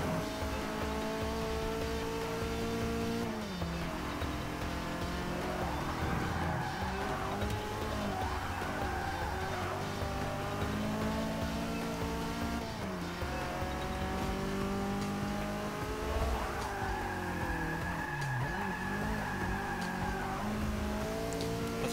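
A Fulvia race car lapping Long Beach in Forza Motorsport 6, its engine revving up and down through gear changes, with repeated tire squeals through oversteering corners, loud and close with no talk.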